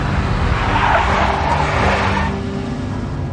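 A big black Mercedes in the video game Max Payne skids hard with a loud, close tire squeal over engine roar for a couple of seconds before the screech fades into a lower rumble.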